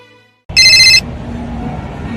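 A telephone rings loudly in one burst of bright electronic trilling, cut off after about half a second, then a low room hum and background murmur continue.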